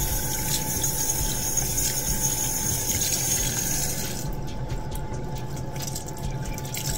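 Steady running water from a tap splashes continuously while soap is rinsed off skin during a skincare routine, a close, even wash of sound with the flow shifting slightly partway through.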